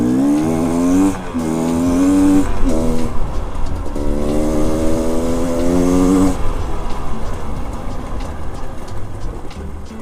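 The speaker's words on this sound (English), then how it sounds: "I like the 2-stroke sound." A 2022 Beta Xtrainer 300 two-stroke dirt bike engine revs loud and close, its buzzing pitch rising and falling through several throttle blips before settling into a steady, rough drone.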